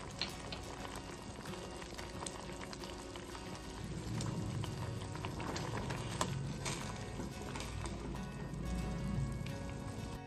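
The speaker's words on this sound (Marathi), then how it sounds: "पाण्याला चांगली उकळलेली" Water boils steadily in a pot on the stove while pea-pod soup is made, giving a continuous bubbling, frothy rumble that swells slightly halfway through, close and with no voices.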